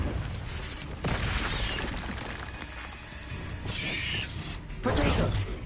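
The Confringo fire spell goes off in the Hogwarts Legacy video game, bursting with crackling blasts and clattering mechanical impacts, and a bright whooshing flare lands near the end, alone with no talk.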